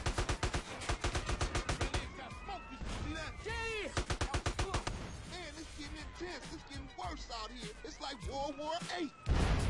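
Rapid bursts of Grand Theft Auto: San Andreas gunfire crackle repeatedly, mixed with vehicle engine noise, while someone talks over the shooting.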